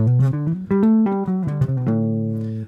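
A run of smooth, connected jazz guitar scale notes played solo with hammer-ons and pull-offs, each note flowing into the next without clear picking attacks, close and fairly loud.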